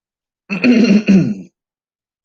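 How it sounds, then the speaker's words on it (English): A single burst of throat-clearing coughs, two close rasping hacks from one person, near and fairly loud, then silence with a faint click at the end. "I have to explain these coughs now."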